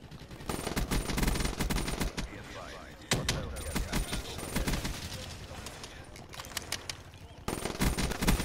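Rapid automatic gunfire from a video game rattles in dense, loud bursts with brief pauses, repeating across the stretch while a player's voice talks over it.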